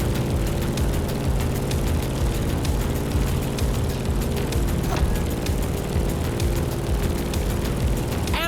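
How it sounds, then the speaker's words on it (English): Grumman F8F Bearcat piston fighter in The Crew Motorfest, its propeller engine droning steadily and loudly throughout with a heavy low rumble and no talk. "In the cockpit of a stunning Grumman F8F Bearcat,"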